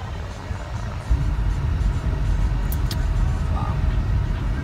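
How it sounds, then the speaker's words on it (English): A car cruises along with a steady low engine and road rumble from inside the cabin, no voices. "all I'm doing is just driving right now"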